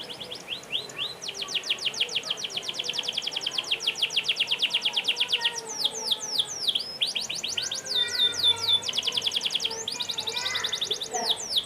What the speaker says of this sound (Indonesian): Di bawah itu ada burung belekok, burung kuntul, banyak sekali ya.